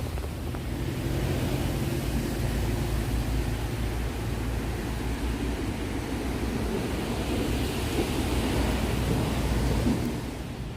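Steady rain falls during a fishing outing, a broad even hiss with a low rumble that holds constant for about ten seconds, with no voices.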